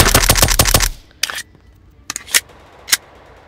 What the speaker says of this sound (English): MP5. This gun has a fast fire rate.